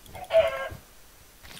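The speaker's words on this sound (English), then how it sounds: "Chicken." A Minecraft chicken gives a short, clipped cluck, fairly loud and alone, followed by a quiet pause and a faint second sound.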